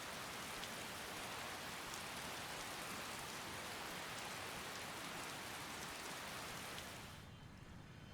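Steady rain falls over the city of Whiterun in the video game Skyrim, a dense even hiss that continues unbroken before thinning out near the end.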